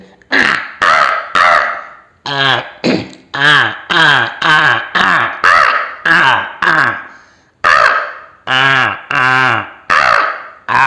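A voice imitating a crow, letting out loud, harsh caws one after another in quick bursts with brief gaps between groups, close and dry.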